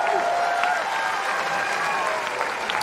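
Tennis crowd at the US Open applauding steadily, a dense wash of clapping at moderate distance with a few cheers rising above it, continuing without a break.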